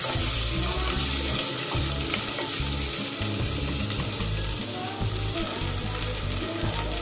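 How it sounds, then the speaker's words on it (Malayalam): Small onions (shallots) sauté in a pan for sambar, a loud, continuous rushing sizzle over a low droning hum that holds steady throughout, with no speech. "എന്നിട്ട് ഈ ഉള്ളി നന്നായി ഒന്ന് വഴറ്റിയെടുക്കാം"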